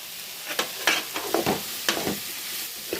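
Wild bitter gourd being stirred in a hot pan with turmeric, chilli powder and garam masala, an even sizzle broken by repeated close scraping strokes of a spoon in an irregular rhythm.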